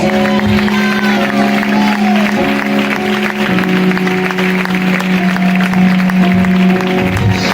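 A church congregation claps steadily throughout, a dense wash of applause under sustained keyboard or organ chords that shift pitch midway.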